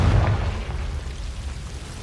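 Confringo, the explosive spell in Hogwarts Legacy, bursts in a heavy low boom that rumbles and crackles off over two seconds.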